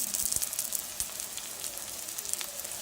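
Cut garlic pieces sizzle in a hot pan for a South Indian moringa leaves dish, a steady close crackling hiss with a few sharper pops, no voices.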